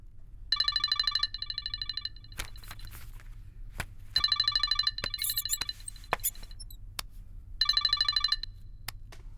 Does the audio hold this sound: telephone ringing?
yes